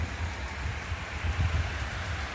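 Steady heavy rain pouring down, a dense continuous hiss that stays at an even level throughout, with no voices.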